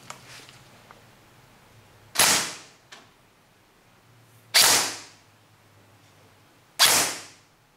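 Airsoft bolt-action B4A1 rifle with an 11.1 volt battery fired in a chronograph test: three single sharp loud cracks spaced a couple of seconds apart, each with a short decaying tail, over quiet background.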